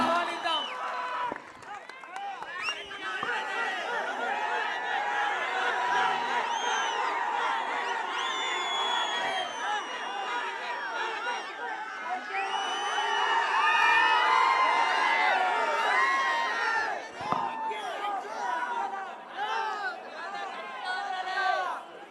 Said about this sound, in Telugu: అందరూ కూడా కరతత్వనులతో గట్టిగా చప్పట్లతో ఆహ్వానిద్దాం